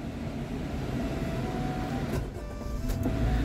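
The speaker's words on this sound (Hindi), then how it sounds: "बहुत ही गर्मी है इसलिए गाड़ी को ऑन करके एसी लगा देते हैं" A parked car's engine left running on a hot day to power the air conditioning, giving a steady, close idling hum and blower rush that carries on without a break, with no one talking.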